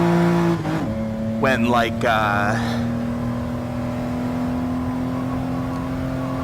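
Car engine droning steadily in the racing game GT Sport played in VR, a constant hum with a shift in pitch early on, under someone talking briefly.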